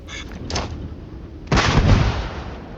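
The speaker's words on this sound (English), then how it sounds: "Quack bangs with a very large explosion radius, double that of a frag grenade, and about 4 times the base damage of a frag grenade." Quack bang grenades from a Starfield game mod go off in two loud, booming blasts: a shorter burst first, then a bigger explosion with a rumbling tail.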